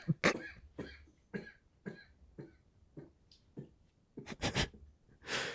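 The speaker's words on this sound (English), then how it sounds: "having a little bit of a coughing fit over there" A person has a coughing fit, a run of about a dozen separate coughs with short gaps between them, bunching together near the end before a breathy exhale, close and clear with no talk.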